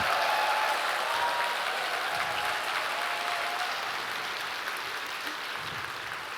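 An audience at a cosmetics technology presentation claps in steady, dense applause that starts full and slowly thins and fades.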